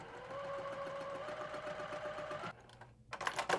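A sewing machine quilting stitches along a seam of a fabric tea cup coaster, running with a steady rapid hum and needle rattle for a few seconds, then stopping, followed by a few soft handling clicks.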